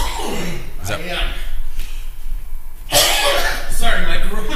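A man coughs nearby during a live stream, with a sharp cough burst among quieter throat sounds and loud talk.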